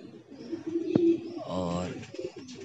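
A pigeon gives a soft cooing call at close range, with a brief sharp knock just before it and faint background noise.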